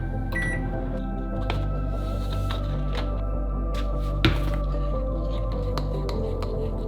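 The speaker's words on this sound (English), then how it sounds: "toss in the microwave for 2 minutes" A microwave oven hums steadily while heating a bowl of oats, a constant low drone with a faint whir, broken by a few light clicks and one sharp tap.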